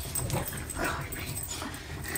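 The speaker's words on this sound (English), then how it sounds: "Psycho dog." A dog whimpers and yips excitedly, soft high whines close by over a continuous muffled indoor background.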